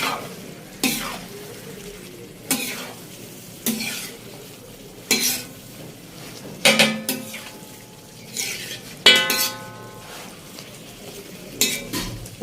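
Chicken kaleji sizzles on a tawa while slit whole green chilies go in. Repeated stirring strokes scrape and clink against the metal over a steady frying hiss, with no talk.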